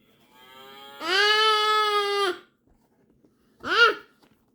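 A young boy imitates a cow, giving a long sustained moo-like yell followed by a shorter second call, loud and close with no other sound around.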